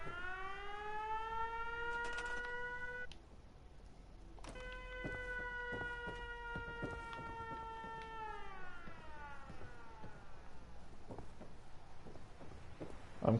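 Wailing air-raid style siren in Fallout 4, long rising and falling tones that cut out and restart, loud and alone with faint clicks underneath.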